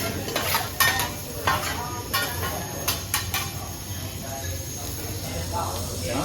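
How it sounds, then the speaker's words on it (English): Filet mignon sears on a hibachi grill aboard a cruise ship restaurant, a steady sizzle under repeated metallic scrapes and taps of a spatula on the flat top, with people talking nearby. "Look at that, searing the filet mignon."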